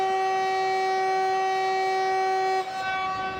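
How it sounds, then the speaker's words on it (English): Locomotive horn on the Semmeringbahn from Gloggnitz to Mürzzuschlag in Train Simulator 2016, one loud sustained chord-like blast lasting about two and a half seconds before cutting off abruptly, with a low hum lingering after. "quickly sound the horn with the spacebar key"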